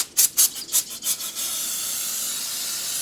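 Brake parts cleaner sprays onto car parts during a 1967 Dodge Charger build, starting with several short, loud hissing bursts and then settling into one continuous close spray.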